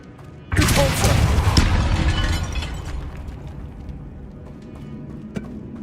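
A sudden loud blast erupts in the Hogwarts Legacy video game as the Depulso spell is cast, a heavy booming burst that rumbles and slowly decays over several seconds into a lingering low tail.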